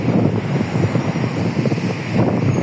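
Strong wind in Business Bay, Dubai, buffets the microphone in loud, rumbling gusts, a continuous blustery roar.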